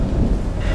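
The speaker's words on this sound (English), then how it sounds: "You guys can hear me over the raging storm that's coming in on us here." A brief, loud burst of raging thunderstorm in the game Call of the Sea, a dense low rumble of thunder and heavy rain filling the moment.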